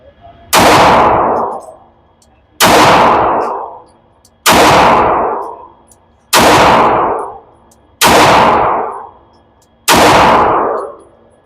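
Six evenly spaced loud gunshots from a Girsan Witness 2311 Match pistol at a shooting range, each a sharp close crack about two seconds apart with a ringing decay.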